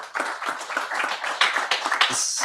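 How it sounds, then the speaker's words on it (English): Audience members clap their hands at a disaster preparedness community gathering, a loose scatter of claps under a busy mix of voices and chatter, fairly close and moderate in level. "Let's give a hand clap to Scott for helping us."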